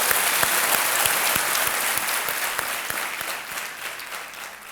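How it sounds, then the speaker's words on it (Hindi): Studio audience applause on the set of the quiz show Kaun Banega Crorepati, a dense, steady wash of many hands clapping that carries on without pause, loud and close, with a slight easing toward the end. "एक बार फिर ताली बजा देते हैं आपके लिए"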